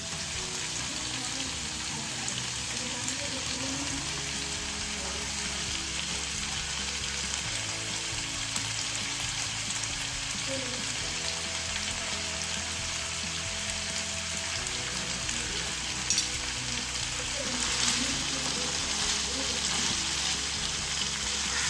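Chickpea chaat with chopped onion, tomato, green chili and coriander being mixed in a pan on the stove, giving a steady low sizzle with soft scraping and stirring throughout, with no talk.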